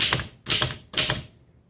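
A 1913 Royal 5 antique typewriter typing in three quick bursts of crisp mechanical key strikes, each cluster of clacks sharp and close, separated by short pauses, with no talking.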